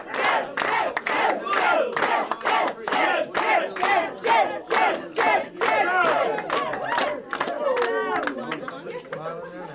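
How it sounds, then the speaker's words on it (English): Tess Crosby supporters at a Windsor Lake byelection results gathering break into loud rhythmic cheering, chanting in repeated surges with a crowd roaring and shouting together, close and energetic. "And now you're getting the cheer, so just let Tess Crosby supporters enjoy the moment right now."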